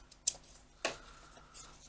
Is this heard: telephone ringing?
no